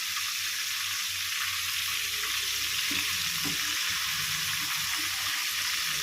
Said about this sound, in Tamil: அது ஒன்று ஒன்றா போட்டு ஒரு ஈடாக நம்ம வறுத்து நம்ம எடுத்துக்கலாம்.